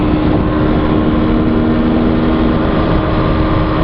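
Husqvarna TE250 dual sport motorcycle engine at speed around 60 mph and roughly 9,000 RPM, a loud, steady high-revving drone mixed with wind noise, no talk.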